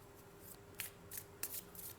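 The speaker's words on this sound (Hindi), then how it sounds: "बल्कि इसको हम एक दफ़ा इस तरह से शफल कर लेते हैं" Tarot cards being shuffled by hand during a reading, giving a few soft papery riffles and flicks in quick bursts over a low steady hum, fairly quiet and close, with no talking.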